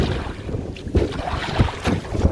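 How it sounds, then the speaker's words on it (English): Wind blows across a lake while canoeing, a steady, loud rushing buffet on the microphone with gusty surges and faint water movement beneath. "Different parts of the lake are windier."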